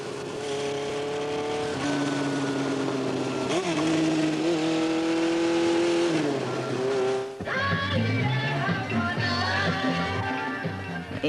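Street traffic noise: steady, loud engine drone with rising and falling revs of passing cars, continuous and close throughout, thickening into a busier rumble near the end.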